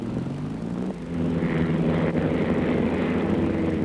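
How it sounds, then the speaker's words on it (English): A small propeller plane runs its engine at an airfield on the coast at Great Yarmouth, with a loud, steady droning buzz that swells briefly partway through. "The planes look rather small, but they're quite safe."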